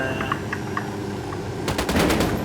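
Gunfire in the Ghost Recon Wildlands video game during a San Mateo mission: a few faint clicks, then a loud, rapid burst of automatic shots near the end.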